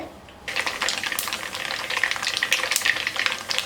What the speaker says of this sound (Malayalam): ഇപ്പോൾ നമ്മുടെ കടുക് പൊട്ടി കഴിഞ്ഞുകൊണ്ടിരിക്കുന്നുണ്ട്.